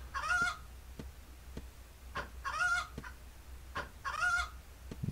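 Chicken clucking in the indie video game Duna, three bursts of squawky clucks at steady intervals with soft clicks between, fairly close and alone without talk.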